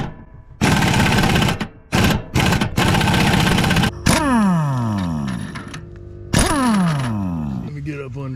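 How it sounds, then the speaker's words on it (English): A pneumatic air wrench tightens a nut on the hydraulic steering of a Ventrac 4500Z, with several loud buzzing bursts broken by brief pauses, then longer runs whose pitch climbs and falls as the nut seats, heard close. "I should be able to take the air wrench, stick it up underneath of there, and tighten it up there"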